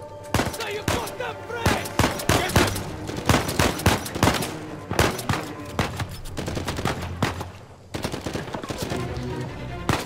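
Dense gunfire in the Uncharted 4 jungle-island chapter, with rapid machine-gun bursts and repeated sharp shots close by, running almost continuously with a brief lull near the end, and faint voices underneath.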